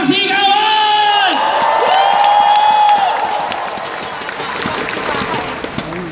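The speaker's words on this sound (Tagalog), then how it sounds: "Lahat ng payaman, pumalakpak ng may kasawang sigawan!" An audience at an AIM Global company event claps and cheers loudly, with whoops and shouted voices rising over steady applause that gradually thins toward the end.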